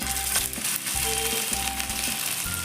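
Hot oil crackles and sizzles steadily in a pan on a gas stove while potato and semolina breakfast batter fries, a close, continuous hiss with faint clinks of a utensil.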